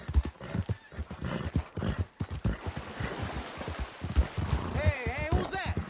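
A horse gallops in the Red Dead Redemption 2 video game, with rapid rhythmic hoofbeats up close and a whinny near the end.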